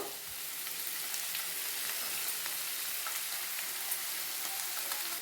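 Soy sauce poured into chicken manchurian frying in a pan, giving a dense, continuous hiss and crackle of sizzling oil with occasional stirring, close and steady throughout.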